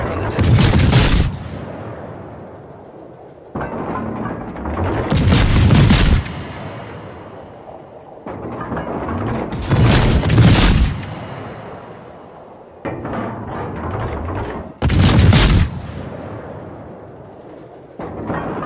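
Artillery fire in a video game pounds out as four or five heavy booming salvos a few seconds apart, each a loud blast followed by a long rumbling roll. No voices can be heard.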